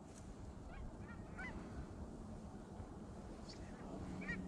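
Geese honk a few times at a distance over steady wind and water noise on big open water, landing among decoys during a waterfowl hunt.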